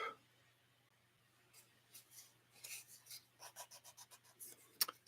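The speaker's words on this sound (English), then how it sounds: "Sanding." Hand sanding with faint, close, rhythmic scratchy strokes in short repeated bursts against a quiet background with a low steady hum.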